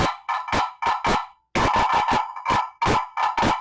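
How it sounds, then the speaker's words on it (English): Rasping scrapes of a drumstick across the ridged wooden ribs of a guiro, played in quick bursts of one or two strokes with short pauses between, close and fairly loud. "So you run a drumstick up and down the ribs, and, oftentimes in one direction"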